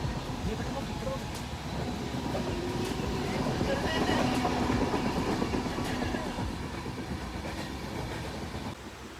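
A passenger train runs on its rails on arrival at a station in Goa, a steady rumble with rhythmic clickety-clack heard from inside the carriage, with a voice speaking beneath the noise.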